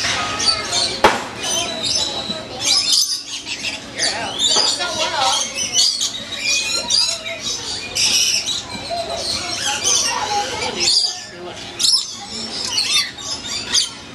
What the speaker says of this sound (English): I'm gonna go in and feed some birds.